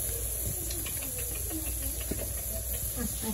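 Sliced potatoes sizzle and hiss steadily in a hot wok (kadai) in a village kitchen, a close continuous frying crackle with small pops throughout.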